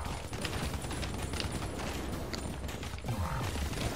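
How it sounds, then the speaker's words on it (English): Rapid clattering gunfire from the video game Super Time Force Ultra, a dense stream of mechanical shots at moderate level with a brief quiet voice near the end. "he started shooting"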